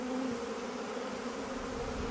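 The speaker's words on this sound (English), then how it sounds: "You definitely have a full neck of bees." Bees swarm densely around a person's neck and face in a bee beard, a continuous close, loud droning buzz with no gaps.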